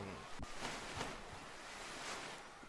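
In a Roblox waterpark game, water splashes and rushes as a steady, surf-like wash, faint and continuous throughout, with a few soft swells.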